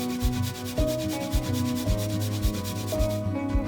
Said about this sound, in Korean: 그냥 강판에다가 가세요.